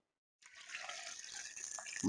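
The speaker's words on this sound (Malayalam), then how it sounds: "നമുക്ക് കുറച്ച് വെള്ളം ഒഴിക്കാം" Water is poured into boiled grapes for homemade grape juice, a soft, steady splashing trickle that starts after a short silence and grows slightly louder.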